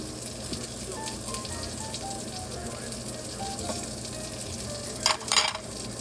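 An egg omelette for a sandwich fries in a pan, giving a steady, even sizzle throughout with a brief louder crackle near the end.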